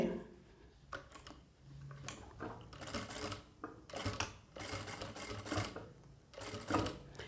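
Sewing machine stitching a blouse, running in short bursts of rapid mechanical clatter separated by brief pauses, heard close and alone.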